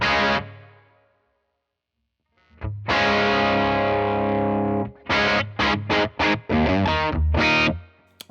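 Distorted electric guitar through a Tone King Imperial Tri-Tube preamp and the middle amp cabinet, a ringing chord that fades out, then heavy sustained chords and choppy stabs, loud and close.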